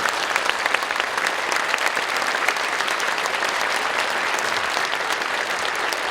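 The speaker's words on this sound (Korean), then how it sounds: "우리 뜨거운 박수로 우리 목사님 만나겠습니다" A large congregation claps warmly at a Korean church service welcoming a visiting pastor, a dense, even roar of applause filling the hall for about six seconds without a break.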